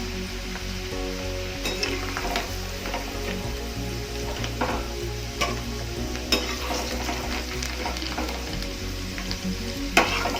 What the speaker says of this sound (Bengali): আলুগুলো দেখো ভাজা হয়ে গেছে